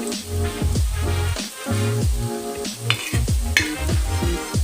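Chilies fry in hot oil in a pan for an Odia potala curry, with close, loud sizzling and repeated scraping stirs that come in short rhythmic bursts.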